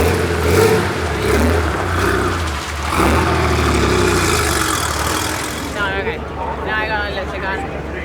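A newly restored Porsche 930 Turbo at an ice race runs with a steady, mid-pitched engine drone and some revving, heard close under continuous talking for the whole stretch.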